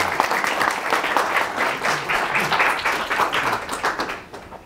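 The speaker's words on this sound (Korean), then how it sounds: "큰 박수 부탁드리겠습니다." An audience in a lecture hall applauds to welcome a professor before his talk, a full, close burst of many hands clapping that holds steady for several seconds, then fades quickly at the end.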